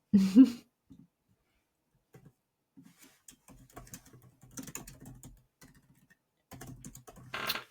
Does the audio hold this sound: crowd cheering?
no